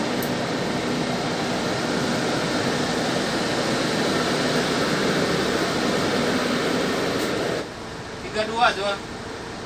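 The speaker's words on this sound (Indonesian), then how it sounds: "Coba kipas." A small electric fan runs inside the cabin of a Scania heavy truck, giving a steady airy whir that cuts out near the end before a brief clatter.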